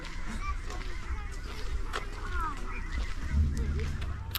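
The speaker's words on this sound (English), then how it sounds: "Oh, look at all the geese over there. They're rushing to the bedding grounds." A flock of geese honks at a distance over an open field at sunset heading to bedding grounds, calls rising and falling continuously over faint low wind rumble.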